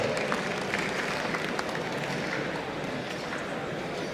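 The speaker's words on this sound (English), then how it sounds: "Please give a round of applause for that talk" Steady applause from a large audience at a hackathon opening ceremony, dense clapping filling the room at an even level for a few seconds.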